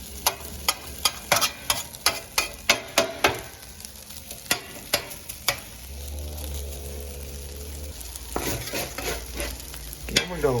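Chicken and rice frying on a flat top griddle, with a rapid series of sharp metal spatula scrapes and taps over a continuous sizzle, then a stretch of steady frying hiss before more scraping.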